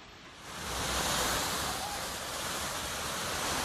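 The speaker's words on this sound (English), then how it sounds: "By Hammersmith Bridge, water has been gushing into the air after the huge downpours." Floodwater gushing into the air beside Hammersmith Bridge after heavy downpours, a dense, steady roaring rush close by that swells slightly early and then holds loud and continuous with no voices.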